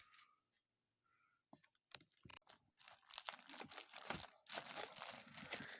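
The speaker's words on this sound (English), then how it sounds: "Let me set this down to take the plastic off." Crinkling and tearing of plastic wrap close by, starting with scattered rustles and building into steady crumpling.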